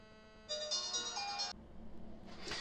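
A telephone rings in a workshop during repair work on a Philips CD100 CD player, a bright electronic ringtone lasting about a second, followed by a softer tone.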